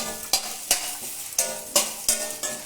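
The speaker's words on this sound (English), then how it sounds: "Now I am switching off the gas and just I am frying, that's all." Coconut pieces frying in a pan on a switched-off gas stove give a close, crackly sizzle, with about seven sharp, bright stirring scrapes at a steady pace over the hiss. No one speaks.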